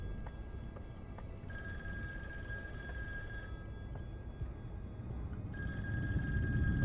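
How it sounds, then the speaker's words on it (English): Telephone ringing in the game In Sound Mind: two long bursts of bright electronic ring separated by a pause, sitting over a steady low ambient rumble with no talk. "Well, there's a phone ringing."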